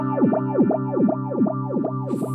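Chase Bliss Audio Wombtone analog phaser pedal with high feedback, a sustained guitar chord churned by a fast, sharp, resonant sweep that repeats evenly, loud and up close, with a brief hiss near the end.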